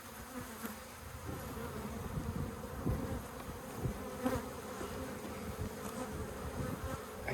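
A honeybee colony nested inside a bird house hums in a dense, steady drone, with individual bees buzzing past close by throughout.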